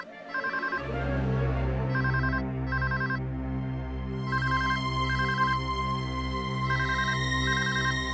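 A phone ringtone plays loud and close, a repeating electronic melody with bright, evenly spaced beeping phrases over a sustained low tone, with no talking.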